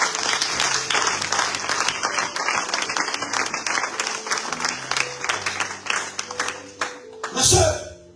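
Congregation in church applauding to acclaim the Lord, continuous crowded clapping with a murmur of voices, ending in a louder burst of cheering and a final surge.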